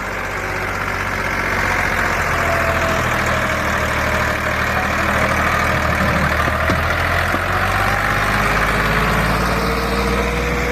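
A tractor engine pulling a fully loaded trolley chugs loudly and steadily up close, a deep continuous diesel drone with rhythmic knocking and a rising strain partway through, without speech.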